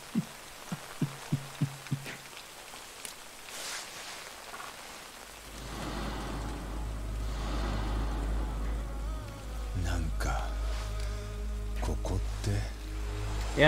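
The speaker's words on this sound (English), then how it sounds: "Oh, it's raining now." Rain in the video game Lost Judgment, starting after a few soft taps as a steady, moderately loud wash of falling water that continues to the end.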